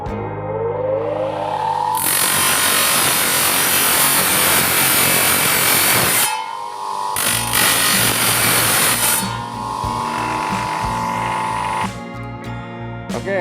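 A hand saw cuts through a coconut shell being shaped into a ring, rasping loudly in two long bursts with a short pause between them.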